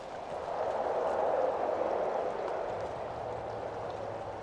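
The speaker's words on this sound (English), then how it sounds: "I'm going to walk a little bit closer to the creek so you can see the water flowing" Creek water flows at Garrison Creek on the Natchez Trace, a soft, continuous rushing murmur heard at moderate distance, steady and unbroken, with no talking.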